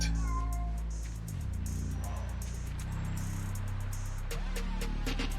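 Spider-Cat, a cat companion in the video game Marvel's Spider-Man: Miles Morales, gives a drawn-out meow over steady game music and ambient hum.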